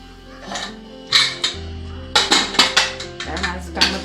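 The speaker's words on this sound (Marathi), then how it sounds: "आता झाकण ठेवणार" Metal lid set onto a pot of dal and rice on a home kitchen stove: several sharp clinks and clanks of metal cookware, close and bright, in quick irregular succession.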